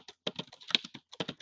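Quick, light keystrokes on a computer keyboard come in uneven bursts with a short pause, as someone types text into a business software document. The clicks are close and fairly soft, with no voices.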